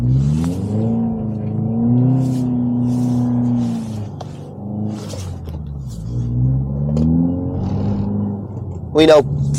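A 2022 Subaru WRX on Blizzak WS90 tires drives through snow with traction control off; its engine rumbles steadily with gentle swells of revving, and a short sharp noise cuts in near the end.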